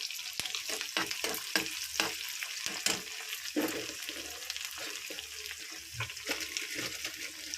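Onions, green chilies and two kinds of leafy greens, including gongura, cook in a pan for a curry, with a steady faint sizzle and repeated sharp stirring clicks throughout.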